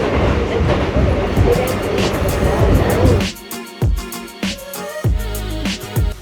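A local train in the Kansai region of Japan rumbles along with a rushing roar that gives way to rhythmic clickety-clack of wheels over rail joints, close and fairly loud.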